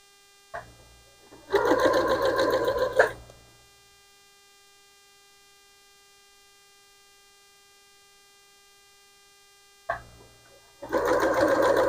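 A sewing machine stitches bat-themed fabric place mats in two short bursts of rapid, even whirring, each lasting about a second and a half, separated by a long quiet gap with a faint hum.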